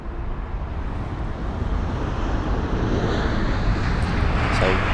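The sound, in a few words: Lufthansa A320neo aircraft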